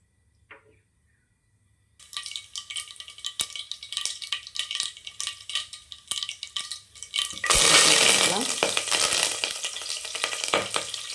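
Mustard seeds and urad dal hit hot oil and start frying, with crackling pops and sizzling that build after a short quiet start, then surge into a loud, steady hiss partway through.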